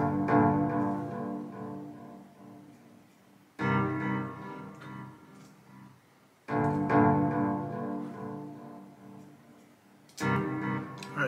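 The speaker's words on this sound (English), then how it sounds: "the first instrument I got playing is like this, they call it an acoustic pluck." Acoustic pluck synth instrument with a guitar-like tone, playing phrases of plucked notes in a beat that cut off and restart several times; moderate level, no speech.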